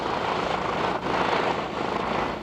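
A 1939 Junkers Ju 52 three-engine vintage plane, each radial engine rated at 550 horsepower, drones with a loud, steady, dense roar heard from inside or close by, with no speech over it.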